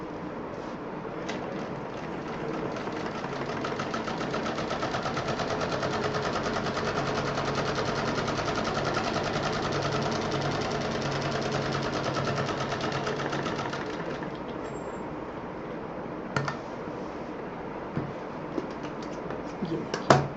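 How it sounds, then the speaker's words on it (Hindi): A sewing machine runs a fine seam along a handmade bag, whirring in a steady, rapid, close-up clatter for about fifteen seconds before stopping, followed by a few scattered handling clicks. "इसको पकड़ के इधर भी एक महीन सिलाई चला देंगे ताकि किसी को ये ना पता चले कि इसमें जोड़ पड़ा है"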